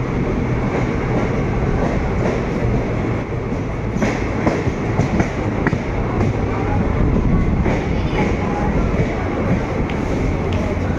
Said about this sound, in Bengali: আমাদের ট্রেন এখন বর্ধমান জংশন স্টেশনে এসে পৌঁছেছে